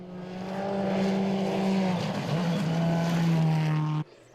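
A Subaru rally car racing in the 2016 New Zealand Rally Championship at Rally Whangarei, its engine a loud, close, sustained drone with a pitch dip midway before cutting off abruptly near the end.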